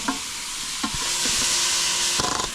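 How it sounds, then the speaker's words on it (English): Czech sausages sizzle in a pan on an induction camp stove for goulash: a steady, bright frying hiss, with a few soft spoon scrapes and taps in it. "we'll add sausages, and we will fry it now for about 5 minutes"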